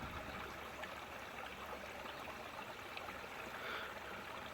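Water in a shallow stream flows and trickles continuously, a steady soft wash of moving water with no voices.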